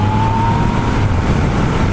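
A Yamaha MT-09 SP motorcycle pulls away with its clutch out in the softer B riding mode, its engine a steady, loud, close roar with a faint whine riding over it.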